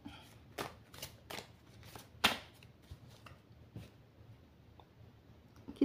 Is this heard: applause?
no